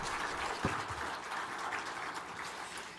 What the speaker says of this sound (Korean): 예, 박수 해주세요.